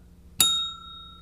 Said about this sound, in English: now we have our own little bell that we can ring